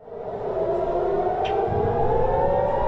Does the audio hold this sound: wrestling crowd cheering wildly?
no